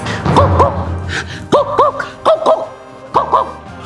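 Voice imitating a dog, giving several loud, close yips and barks in short bursts with brief pauses between them, each bark carrying a rising and falling whine.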